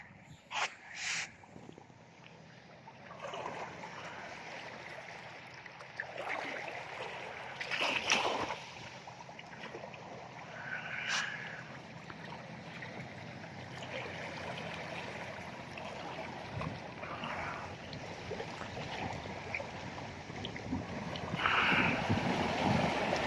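Seaside waves on a Philippine shore: a continuous broad wash of surf and wind that swells and eases, with a few faint knocks and splashes near the start, heard at a moderate distance.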